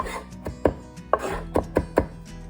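A knife chops cilantro and celery leaves on a cutting board in a series of crisp, close taps, about eight strokes at an uneven quick rhythm, with no talk.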